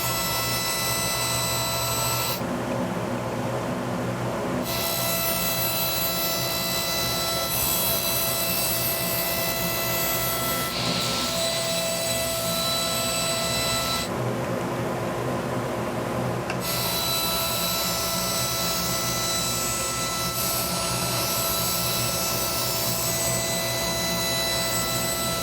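A table saw rips wood strips for guitar neck template blanks, its motor whining steadily throughout with two stretches where the tone shifts under cutting load; no one speaks.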